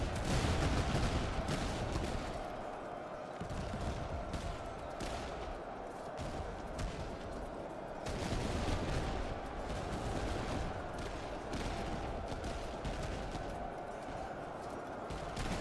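Battle gunfire in the strategy video game Master of Command, Sweden DLC: rolling musket volleys and scattered crackling shots, steady and fairly distant, continuing throughout.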